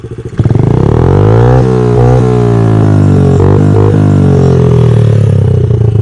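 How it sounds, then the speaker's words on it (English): A Honda CRF50 dirt bike fitted with a Big Gun exhaust revs loudly and close by. A rough idle sharply jumps into a sustained high rev, and the engine holds there with small wavering dips. "let's check out the rev one more time."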